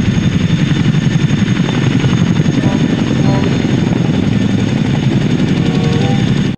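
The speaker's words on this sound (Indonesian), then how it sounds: "Wow, ini helikopter militer." Steady loud whirring drone with rapid rotor-like chopping, continuous throughout, like a toy military helicopter running close by.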